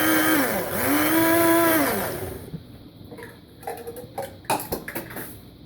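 A blender whirs loudly for about two seconds, its motor pitch rising and falling, then stops, followed by clinks and bumps of handling, while making Liberian plantain gravy.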